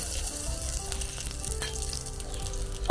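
Tagilo, as it is called in Kapampangan, fries with garlic in a little oil, giving a steady, close sizzle throughout with a small clatter near the end.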